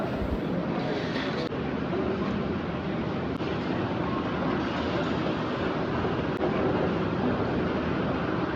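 Steady, dense rumbling ambience fills the interior of Qasr Al Hokm metro station in Riyadh, a continuous wash of indoor noise with no clear voices.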